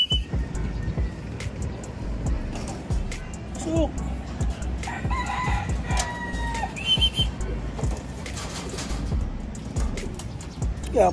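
A rooster outdoors crows and clucks in short, fairly close calls among other bird chirps and background noise, while someone talks over it.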